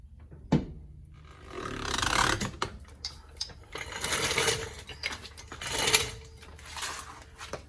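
A jack lowers a 2018 Subaru STI Type RA fitted with 20mm wheel spacers, giving quiet ratcheting and clicking mechanical sounds in irregular bursts, with a sharp metallic clank near the start.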